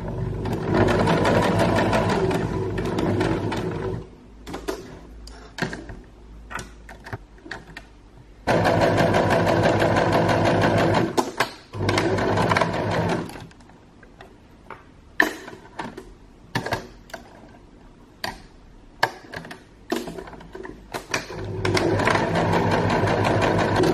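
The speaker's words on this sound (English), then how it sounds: "So let's get to sewing." A sewing machine stitches a fabric dog bow, running in loud sustained whirring bursts broken by short pauses and ticking stops and starts.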